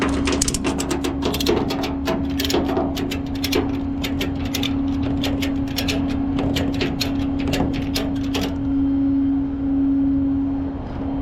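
Rapid ratcheting clicks from a strap being cranked tight on a Chevy truck, loud and close, in quick bursts over a steady low hum, then stopping near the end.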